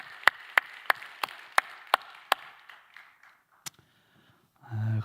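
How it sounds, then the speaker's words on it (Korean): Church congregation at a Korean Friday prayer meeting clapping in a steady, rhythmic beat over a wash of applause that thins and fades out, followed by a brief low tone at the end. "우리 다시 한번 박수로 한번 격려해 드리겠습니다."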